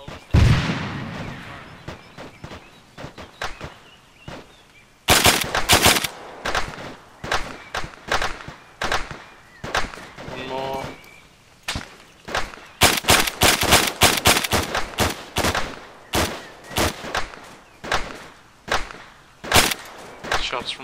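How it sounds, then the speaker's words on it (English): Gunfire in the military shooter ArmA 3: loud bursts of automatic fire and rapid single shots crack repeatedly, with brief pauses and echoing tails between volleys. "Shots from the southeast, no eyes."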